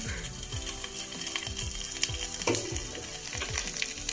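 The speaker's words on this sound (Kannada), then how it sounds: "ಈಗ ಇದಕ್ಕೆ ಆಯಿಲ್ಗೆ ಸಾಸಿವೆ ಆ್ಯಂಡ್ ದೆನ್ ಜೀರಿಗೆ ಹಾಕೋತಾ ಇದ್ದೀನಿ" Mustard seeds and cumin sizzling in hot oil for rasam, a close crackling fry with repeated popping bursts and a few sharp clicks, continuous and moderately loud with no voices.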